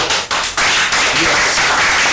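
A live audience at a master class claps together, a dense, steady patter of many hands close by that fills the whole moment with no one speaking over it.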